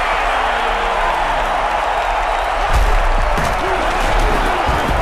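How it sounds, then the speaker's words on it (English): Jets football stadium crowd before a third-down play, a dense sustained roar that swells partway through, with scattered thumps and claps over the steady noise. "Just listen to this Jets crowd, amped up for 3rd down."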